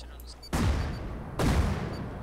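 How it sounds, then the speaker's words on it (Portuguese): Gunfire in the survival video game Rust: two loud, dense bursts of rapid shots about a second apart, each trailing off into rumbling decay, with no talk over them. "eu tô tentando acertar um tiro nele, mas tá foda"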